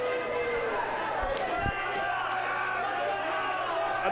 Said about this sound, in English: This crowd is out. The crowd over here is out of their seat.